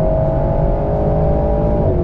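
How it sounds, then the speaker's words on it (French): A prepared, lightened Alpine A110 S two-seater's rear-mounted engine drones steadily and loudly right behind the cabin as the car cruises, a constant close engine roar with no voices. "le moteur est à l'arrière, donc on a vraiment le moteur dans les oreilles."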